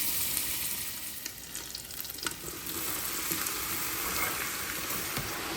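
Vegetables fry in melted butter in a hot soup pot, giving a steady close sizzle with crackles and scraping stirs, moderately loud and without talking.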